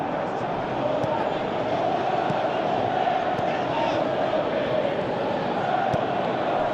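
Steady crowd roar from a football stadium in Pro Evolution Soccer 2017, with Besiktas playing, a dense continuous cheer of appreciation held at even loudness throughout.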